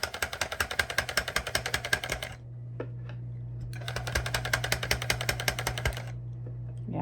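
A Clawlab tufting gun punches yarn into stretched fabric with a fast, loud mechanical rattle of evenly spaced strokes, stopping for a couple of seconds of quiet clicks, then resuming in a second rapid burst over a steady low motor hum.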